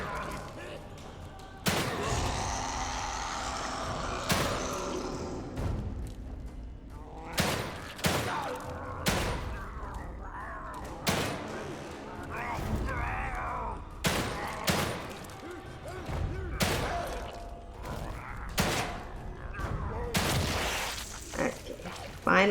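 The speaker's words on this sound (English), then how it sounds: "So I'm just gonna shoot him in the chest." Gunfire in the survival horror video game The Evil Within 2, a string of loud sharp shots at irregular intervals over a continuous game soundscape, with someone talking between and over the blasts.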